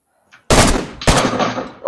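Two loud, close bursts of rapid video game gunfire, each a sharp burst of shots that cuts off abruptly, with a faint sound just before the first.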